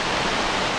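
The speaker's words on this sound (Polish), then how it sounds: "tam się woda przelewa i po prostu takie tworzy bąbelki powietrza" Stream water pours over rocks and churns into air bubbles, a steady close broadband rush of splashing flow with no pause.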